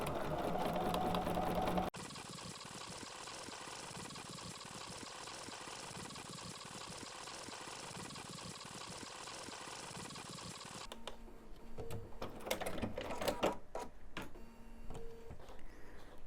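A sewing machine runs close by with a steady mechanical whir while back stitching the seam of a cross stitch pillow, then the stitching slows into short uneven bursts toward the end.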